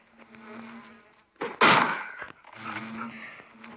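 Bees buzzing in a video game in a steady, close hum that swells into a louder burst, then settles back into a softer drone.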